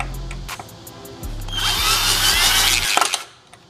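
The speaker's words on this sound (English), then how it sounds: "So I'm gonna just drill it out, use a screw extractor and get it out." A power drill bores out a broken side-skirt bolt on a Honda Civic, a steady high whine running for about two seconds after a brief start, then cutting off, close and loud with no talk.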